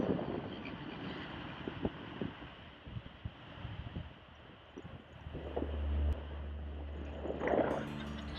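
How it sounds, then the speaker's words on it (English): Strong wind buffets the microphone on the upper deck of a ferry bound for Jeju Island, a steady rushing roar with gusty thumps and the low drone of the ship's engine beneath. "Windy day."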